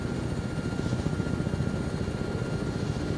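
A video game helicopter flies with a steady, fairly faint rotor thrum and engine whine, continuous and unbroken, with no voices over it.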